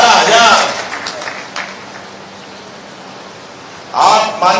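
Burst of crowd applause at a political victory rally in Madhya Pradesh, loud at the start, fading into a low hum, then swelling again near the end.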